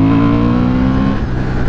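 A Honda Hornet motorcycle engine pulls hard at mid revs on the road, a loud, close, steady harmonic drone that shifts pitch near the end of the short burst, with no voices over it.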